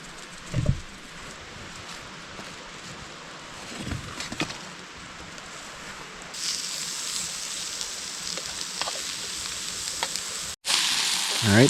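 Mushrooms frying in oil with salt and pepper in a pan at a wilderness backpacking camp in Arkansas, a soft steady sizzle that swells louder in the second half, with a few faint knocks and a brief break near the end.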